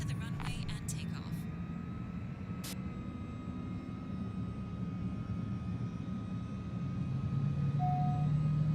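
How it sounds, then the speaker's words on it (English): Simulated aircraft in Microsoft Flight Simulator 2020 taxiing toward a runway, a steady engine drone with a low tonal hum that slowly grows louder toward the end, with brief clicks near the start. "Taxi to the runway and take off."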